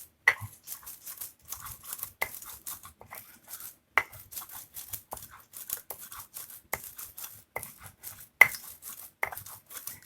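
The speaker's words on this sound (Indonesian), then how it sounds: "Ini tempat saya giling cabai namanya Batu Lado." Chili peppers ground by hand on a flat stone grinder (batu lado) in a home kitchen, heard as repeated rough scraping and knocking strokes of stone on stone, close and fairly loud, with brief pauses between strokes and no voices.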